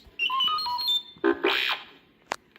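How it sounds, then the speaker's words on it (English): R2-D2, the Star Wars robot droid, burbles a quick series of electronic beeps and warbling whistles, then one sharp chirp after a pause, crisp and close with no speech. "You will know it is time to turn the page when you hear R2-D2 beep like this."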